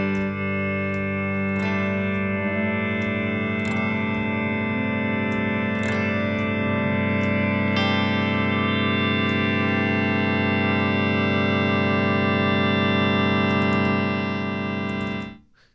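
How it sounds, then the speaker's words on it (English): Electro-Harmonix Superego synth pedal capturing and stacking held tones into a thick sustained drone that swells as new layers are added, with periodic bright attacks, then cuts off near the end. "So every time you capture a sound, the overall volume is getting basically bigger."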